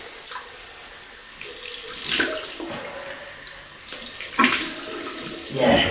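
Water runs from a tap into a sink for a cold rinse after a shave with a double-edge razor, a steady close hiss with splashing surges as hands move through the stream, and a brief spoken word.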